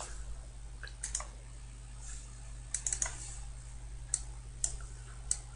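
Keys clack on a computer keyboard in short irregular clusters of taps and single presses over a low steady hum, close by and with no voices.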